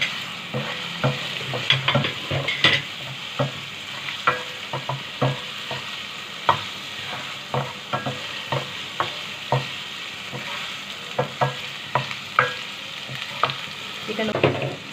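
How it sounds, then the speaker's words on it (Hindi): Chicken sizzling in a hot pan for white sauce pasta, stirred with a spoon in a steady run of scraping clicks over a continuous close fry hiss, with no voices. "इसमें हम चिकन डाल देंगे,"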